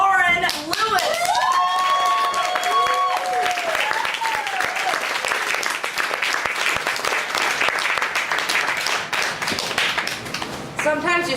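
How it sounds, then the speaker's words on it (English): Audience at a live stand-up comedy show breaks into sustained, loud applause that fills the room, with an announcer's voice over the opening seconds and scattered claps and whoops continuing throughout. "How about a big round of applause?"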